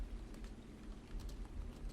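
Steady rain falls outside a window above a city street, a dense, even patter of drops with a low rumbling undertone. It runs continuously for the full stretch with no voices.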